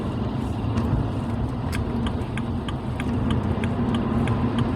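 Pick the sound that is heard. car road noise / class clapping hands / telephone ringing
car road noise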